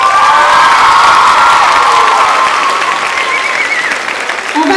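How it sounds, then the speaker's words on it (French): Loud audience applause and cheering at a rhythmic gymnastics gala, continuous dense clapping with high shouts and whoops from the crowd, sustained and close throughout. "On peut les applaudir."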